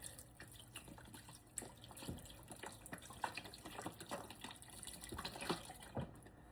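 Tap water pouring into a soup pot in a home kitchen, faint splashing and trickling with scattered drips and small bursts over several seconds, no talk.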